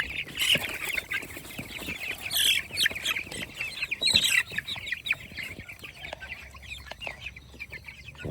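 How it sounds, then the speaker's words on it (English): Meat chickens, seventy-eight of them, cluck and chirp in a movable chicken tractor on a farm, a busy overlapping chorus of close bird calls with sharper bursts scattered throughout. "Right now we have 78 meat chickens in a chicken tractor."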